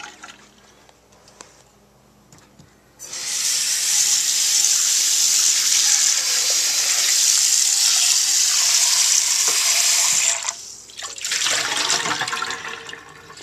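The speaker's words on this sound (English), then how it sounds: "Dump it in the sink." Liquid, Dr Pepper used as a cleaner, poured and rinsed into a sink, heard as a loud, steady rush of water lasting several seconds, then briefly easing before gushing again.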